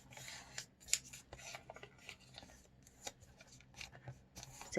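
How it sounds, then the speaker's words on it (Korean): Paper is folded and creased by hand for origami of a mini car, quiet close-up rustles, crinkles and sharp swiping creases in short irregular bursts over a faint background. "뒤집어서 이렇게 가운데로 접어주세요"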